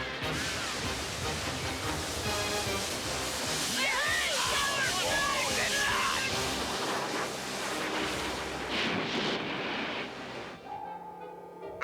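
A cartoon water splash effect, a loud rushing gush of water that surges for several seconds and then trails off, with dialogue and music at the end.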